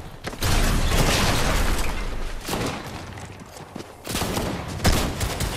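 Rapid bursts of gunfire in Fortnite Chapter 5 zero build gameplay, with loud, dense volleys of shots aimed at the player, repeated clusters of cracks over about five seconds with busy game noise and no talk.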